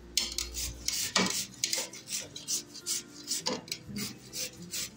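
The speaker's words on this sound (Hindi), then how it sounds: "तो इसके लिए हम इसे खीरा कद्दूकस कर लेंगे इस तरीके से" Unpeeled cucumber rasps against a metal grater for vegetable raita, a close series of rhythmic scraping strokes, each stroke a short gritty burst repeating about every half second, with no talking.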